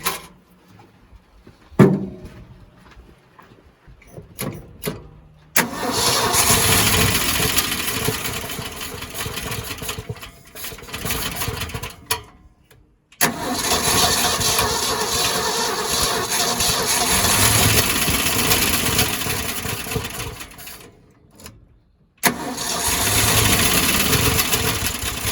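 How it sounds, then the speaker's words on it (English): A 1971 Ford F600 truck that has sat since 1992 cranks and runs in bursts, a loud rough rumbling engine note broken by a few abrupt stops. Quieter clunks and knocks come between the runs. "crank it from inside where I can actually work the throttle and starter a little bit more easier"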